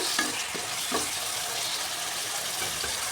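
Chicken liver sautéing in a pan, a steady close hiss of frying with a few soft stirring clicks scattered through, fairly loud, with no voices.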